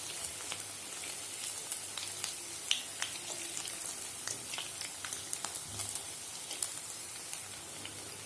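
Idli batter bondas frying in hot oil as an evening snack, a steady close sizzle with scattered small pops and crackles throughout, no voices.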